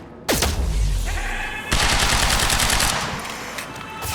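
Gunfire in the action game Quantum Break: a sharp opening shot, then a rapid automatic burst of loud, close shots rattling on for about two seconds before fading into echoing reports.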